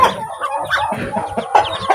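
A crowded brood of ducklings, turkey poults and chicks, a few days old, peeping loudly and continuously, with overlapping high chirps and soft clucking-like calls close by, and no talking.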